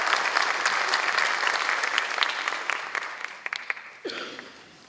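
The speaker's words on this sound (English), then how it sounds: "Please join me in a round of applause with thanking these people for doing what they're doing" Audience applause at a scholarship award ceremony, a dense burst of clapping that thins out and fades over the last couple of seconds, with a few louder individual claps standing out near the end.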